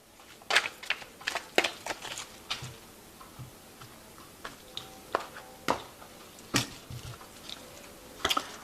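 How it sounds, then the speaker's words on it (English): A tarot deck of the Tarot of New Vision being shuffled, giving quiet irregular clicks and soft card taps in scattered bursts, close and faint with no talking. "I have shuffled this deck."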